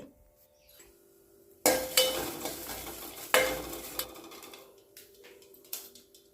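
Washed green chillies are stirred in a hot pan to dry off the water, with steady scraping and rattling of a spoon against the metal and a faint sizzle, a couple of louder stirring bursts, and no talking.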